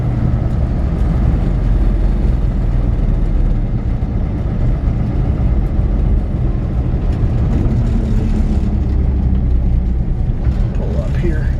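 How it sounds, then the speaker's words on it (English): A 1953 GMC 100 truck drives along with a steady, loud engine drone and road rumble from inside the cab, constant and unbroken throughout. "Nice and straight driving truck, really easy to drive"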